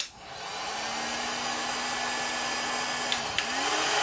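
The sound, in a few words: heat gun shrinking glue-lined heat shrink on wiring connector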